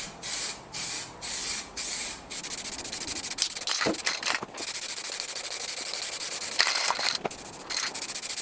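Etch primer on a 1960s Hayter Hayterette mower is rubbed back by hand with 1200-grit paper, giving steady, close scratchy strokes, with brief bursts like rattle-can spraying early on and no talking.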